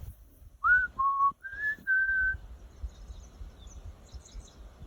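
Oriole calling outdoors: a short series of four clear whistled notes, moderately close, followed by quiet background ambience with faint distant chirps.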